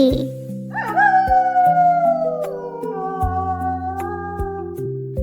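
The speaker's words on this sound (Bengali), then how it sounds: "খতে খেকশিয়াল, খেকশিয়ালটি পালায় ছুটি।" A jackal howls in long, rising then slowly falling wails that stretch across several seconds, fairly loud and close, set over a steady musical backing with no voices.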